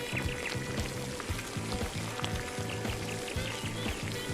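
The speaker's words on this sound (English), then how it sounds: "Now it's time for us to add the rice." Rice is poured into strongly simmering stock in a paella pan over a wood fire, giving a steady grainy trickling rush up close with no voices.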